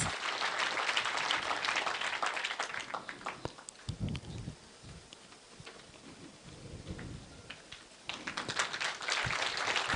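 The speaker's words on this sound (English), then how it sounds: "We can give him a round of applause as he comes." An audience at a Kenya Institute of Management graduation ceremony applauds the chancellor with dense, crackling clapping that swells at the start, dips in the middle with some thumps, then rises again at the end.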